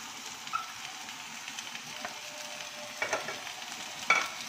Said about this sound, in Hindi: अभी यहाँ पर ये फिलिंग बन रही है चिकन पेटिस की।